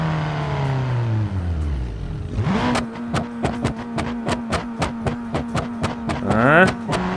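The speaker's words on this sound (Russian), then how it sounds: "Отстрелы вот эти выхлопа вообще четко." Car in BeamNG.drive v0.19 firing a rapid series of sharp exhaust backfire pops over a steady engine drone, starting after the engine revs up and drops, loud and close with no talk.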